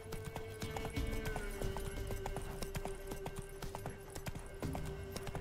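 A horse gallops in The Witcher 3 with quick, rhythmic hoofbeats that continue steadily beneath a sustained game music tone and ambient in-game sound.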